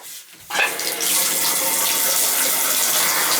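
Water rushes from a Symmons tub and shower diverter valve, bursting on suddenly after a quiet moment and then running as a loud, steady hiss close by.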